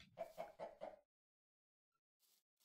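Blocky video-game chickens in Minecraft give four quick, evenly spaced clucks, then fall silent with only a faint sound afterward.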